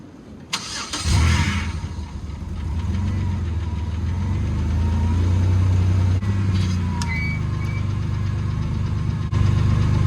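A high-mileage Pontiac Grand Prix with 255,000 miles cranks and starts, then settles into a loud, steady idle that runs close and uninterrupted for several seconds.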